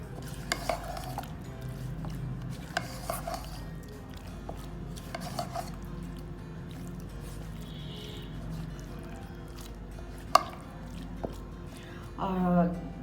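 Chicken shashlik marinade of ginger-garlic paste and salt being mixed in a bowl, soft intermittent scraping and clinks of a spoon, fairly quiet, with a few louder knocks and a brief rattle at the end.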